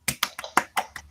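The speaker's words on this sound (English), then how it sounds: "Please, everyone, give applause for her." Six evenly spaced, distinct hand claps in quick succession, close and crisp, from a small group or single person applauding a presenter; no talk.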